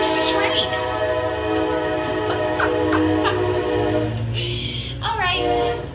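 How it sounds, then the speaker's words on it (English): A train passes with sustained horn blasts, a loud rumbling, steady presence with layered tonal honks and clanks near the end, with no talk over it. "There's the train."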